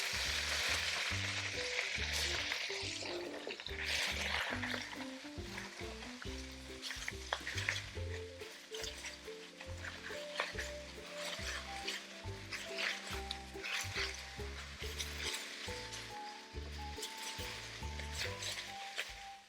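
Washed Chinese cabbage, torn in half, stir-fries in a hot pan, a loud burst of sizzling as it hits the heat, then steady frying with faint clinks of utensil against the pan.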